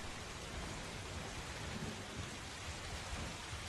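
Thunderstorm ambience of steady, dense rain with low rolling thunder rumbling throughout, a continuous wash of sound with no voices.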